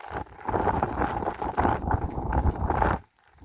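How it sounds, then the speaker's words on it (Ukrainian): Strong wind gusting over a soybean field, a loud rough buffeting rush that surges and dips for about three seconds, then drops abruptly to a quiet hush; no talking. "Задуває сильний вітер."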